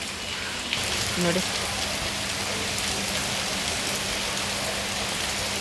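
Heavy rain pours down in Bengaluru, a dense, steady hiss of downpour that stays constant throughout, with a voice briefly speaking near the start.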